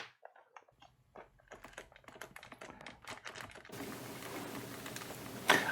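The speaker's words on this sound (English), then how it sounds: "So by wiggling the joystick around I should see those numbers appear on screen as if I'd typed them." Plastic clicks and rattles from a Sinclair SJS-1 joystick being wiggled around, a quick irregular run of close, light taps that gives way to a steady background hiss toward the end.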